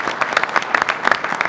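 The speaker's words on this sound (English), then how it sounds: "just one more round of applause for Tim on his retirement" An audience gives a brief round of applause for Tim on his retirement, quick scattered claps close together.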